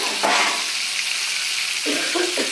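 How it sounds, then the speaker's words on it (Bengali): Fish heads sizzle and spit in hot white oil in a pan, a steady close crackling hiss with a few brief louder bursts as they fry. "সাদা তেলে আমি মাথাগুলো ভাজছি"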